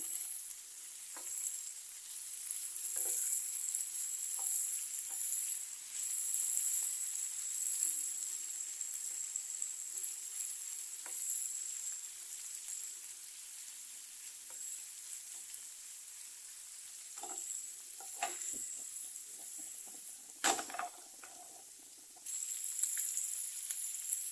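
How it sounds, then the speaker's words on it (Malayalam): Squid pieces fry in a pan with a continuous bright sizzle and crackle, broken by occasional clatters as they are stirred and turned; steady and close for a long stretch. "അപ്പോൾ ഇതെല്ലാം നന്നായിട്ട് ഫ്രൈ വന്നിട്ടുണ്ട് കേട്ടോ"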